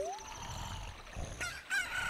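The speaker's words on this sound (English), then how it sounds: "a chicken hatched from the egg" A chicken crowing after hatching in the Zelda: Ocarina of Time video game, a rising cock-a-doodle-doo call, followed by clucks and a second bright crow near the end, close and clear over soft game ambience.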